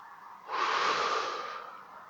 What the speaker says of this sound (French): et expirer par la bouche.